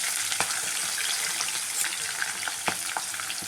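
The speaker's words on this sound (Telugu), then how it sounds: "వీట్ అయ్యాక మిర్చీలండి, ఆనియన్స్ వేద్దామండి" Chillies and onions sizzle and crackle in hot oil in a pan, a continuous close frying hiss with small pops and no talking.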